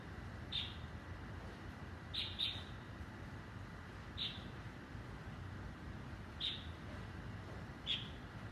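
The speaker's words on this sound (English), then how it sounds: "Fake birds." Artificial bird chirping, a handful of short, high chirps spaced irregularly over a steady low background rumble, faint and somewhat distant.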